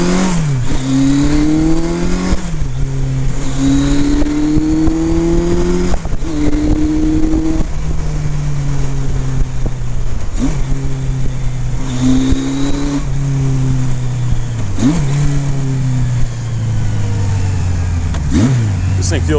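A 1979 Kawasaki KZ1000 motorcycle engine revs up and shifts repeatedly while riding, pitch climbing then dropping with each gear change, loud and close throughout.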